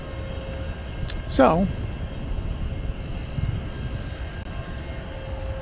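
A jet airliner rotating on takeoff from Dallas Fort Worth Airport, bound for Australia, rumbles as a steady, broad engine roar, heard at a distance under wind noise while someone briefly speaks over it.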